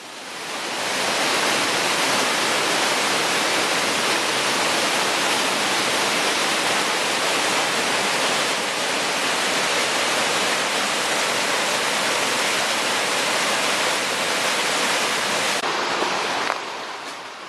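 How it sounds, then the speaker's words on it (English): A Lake District waterfall roars with a dense, steady rush of falling water, loud and close, unbroken for the whole stretch before tailing off slightly at the end. "Following on from the waterfall"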